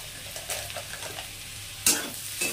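Kundru sabzi seasoned with Kashmiri chili powder sizzles steadily in a pan while a spoon stirs it, with scraping strokes rising over the constant frying hiss.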